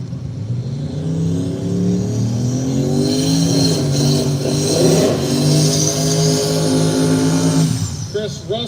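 A red Chevrolet Nova and other drag race cars rumble and rev loudly at close range in the lanes, engines holding steady with rising pitch sweeps before a final burst.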